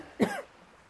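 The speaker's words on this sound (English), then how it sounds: "Is that your tickly cough?" One short, dry cough sounds close by, then quiet background hiss.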